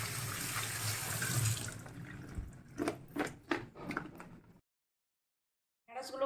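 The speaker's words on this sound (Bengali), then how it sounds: "তাই আমি ভালোভাবে জল দিয়ে ধুয়ে নিচ্ছি।" Okra being washed under a running kitchen tap, with water splashing into a sink before the flow stops, followed by a few wet handling sounds, a silent gap and a brief return of water, close but soft.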